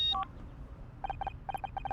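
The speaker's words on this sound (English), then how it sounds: "One sec, I think that's my phone." A phone in the video game Murder by Numbers, a short electronic tone followed by a rhythmic series of paired digital ringing beeps, clear but moderately quiet over a low background.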